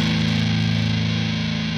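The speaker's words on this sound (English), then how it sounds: "if we bring it all the way up to max, we get full fuzz distortion" A guitar chord rings through a Bulldozer fuzz distortion pedal turned to maximum, heavily saturated, thick, buzzing and loud, sustained for a moment.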